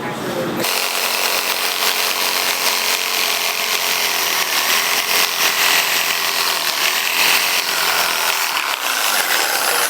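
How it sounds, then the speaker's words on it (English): A reciprocating saw cuts through an aluminum hose fitting with a loud, continuous rasping buzz that runs steadily for nearly the full stretch after a brief quiet start. "Probably just sawzall it off"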